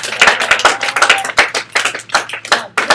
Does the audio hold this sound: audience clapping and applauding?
yes